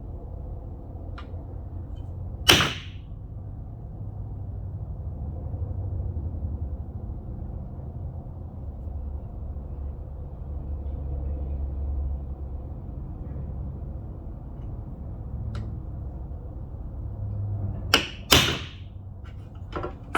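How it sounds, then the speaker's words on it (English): Sharp metallic taps of a center punch being struck to mark drill holes on a downhill ski for mounting new bindings, one near hit early and a quick cluster of two or three later, over a quiet room background. "once again, center punch."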